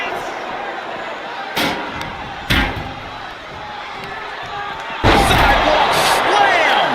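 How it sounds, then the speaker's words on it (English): Heavy body impacts from a sidewalk slam in the WWE 2K25 wrestling game: two sharp thuds a second apart, then a louder crash onto the mat, over a steady arena crowd roar that swells at the end. "What a sidewalk slam."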